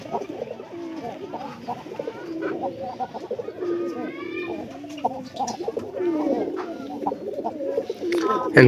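A male pigeon coos repeatedly in close, fairly loud bursts over a murmur of other birds, with a sharp noise at the very end.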